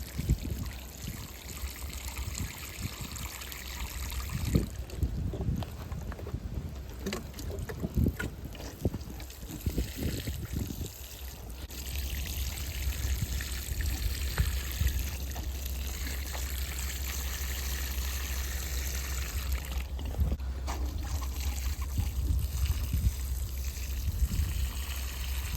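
Water pours from a watering can onto garden plants in a steady trickle and splash, close and continuous, with brief pauses and shifts in flow.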